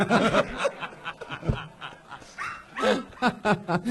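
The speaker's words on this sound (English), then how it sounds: "This is all live stream actual dogs." Dogs bark live in front of a comedy show audience, with several short barks heard among laughter and chatter from the crowd.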